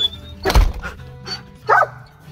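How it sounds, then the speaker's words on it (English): A dog gives a few short, sharp barks with pauses between them, nearby and fairly loud, after a dull thump at the start. "What are you barking at?"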